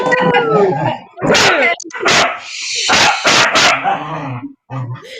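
A dog barks repeatedly up close, loud and sharp, with yips and a whimpering whine between barks, while people talk in the background.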